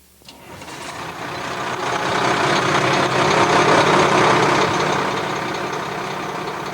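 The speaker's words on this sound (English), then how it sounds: "It's the sound of the 300 horsepower engine that powers the city's new top-of-the-line" A fire truck's 300-horsepower engine rumbles steadily, swelling in loudness then settling into a continuous, close diesel drone.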